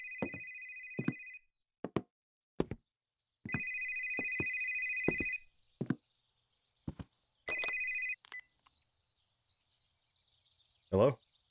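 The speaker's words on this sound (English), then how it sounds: "My phone ringing downstairs." A phone in a psychological horror video game rings from downstairs in several long electronic bursts separated by short pauses and sharp knocks or clicks, clear and fairly close with no talk.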